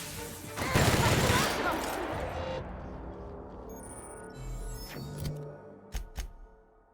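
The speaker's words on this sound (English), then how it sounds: "Who are you even shooting at?" Gunfire in the video game The Outer Worlds aboard a spaceship: a loud burst of rapid shots and crashing impacts up front, fading into scattered electronic game sounds and a few sharp bangs near the end.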